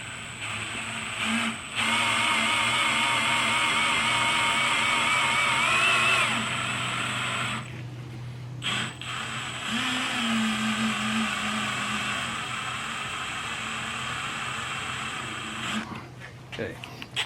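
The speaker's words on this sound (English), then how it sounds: "Let's try some left-handed drill bits." A power drill fitted with left-handed bits whines steadily in two long bursts with a short pause between them, with people talking throughout.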